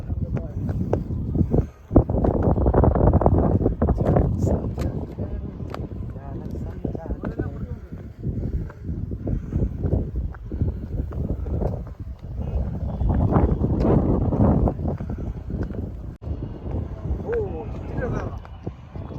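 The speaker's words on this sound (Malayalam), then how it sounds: "നല്ല കാറ്റുണ്ട്" Strong wind roars and buffets the microphone throughout at a rocky hilltop fort about 3000 feet up, a heavy low rumble that rises and falls, with voices talking under it.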